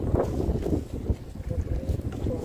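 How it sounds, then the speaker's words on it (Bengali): A fishing boat moves across rough, heavily waved water in the Sundarbans with a low, uneven rumble and gusts of wind buffeting the microphone. "নৌকা আমাকে কিন্তু জায়গার দিক নিয়ে যাচ্ছে"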